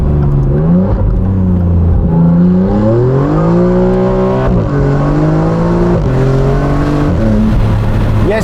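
A Novitec-tuned Maserati MC20 Cielo V6 engine revs loudly and close, its pitch climbing and falling in repeated surges with a rough, gravelly tone across the whole stretch.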